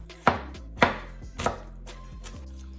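A knife chops red onions on a board in four or five sharp, evenly spaced strikes, each a crisp knock followed by a brief ringing tail, loud and close with no talking.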